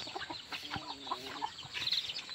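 Chickens cluck in a Konkan village during a temple festival, a few short clucks and one brief call at moderate distance over quiet ambient noise.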